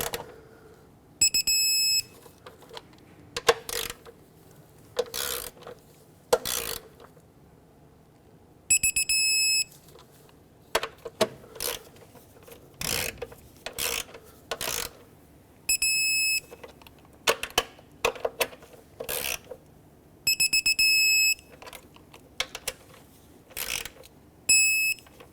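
A ratcheting torque wrench tightens knock sensor bolts on a 2011-2019 Ford Explorer, giving repeated short bursts of clicking with high electronic beeps between them, close by and with no talking.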